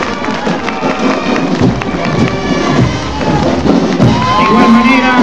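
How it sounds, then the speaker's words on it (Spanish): A large outdoor crowd of spectators and dignitaries applauds and cheers at a school alumni marching band parade for an anniversary in San Román, a dense, loud wash of clapping, shouts and chatter throughout. "El aplauso reiterativo del público presente y de las distinguidas autoridades."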